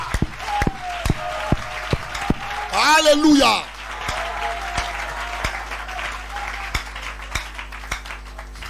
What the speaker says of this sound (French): Oh, applaudissons. Applaudissons pour le papa.